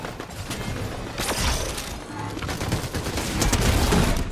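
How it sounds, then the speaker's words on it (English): Gunfire in the Fortnite video game, a scattered run of sharp shots and bursts over a steady game background, growing denser toward the end. "Oh, ooh, we're getting shot at."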